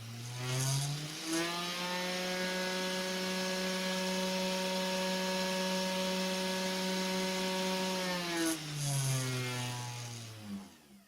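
A 500 W spindle motor on a CNC 3018 router spins up, holds a steady high whine for several seconds, then winds down as its speed setting is changed, close and alone.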